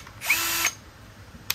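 A Hitachi DV18DBSL cordless hammer drill runs briefly at its slow speed setting, giving a short, steady whine of about half a second that cuts off. A faint click follows after a pause.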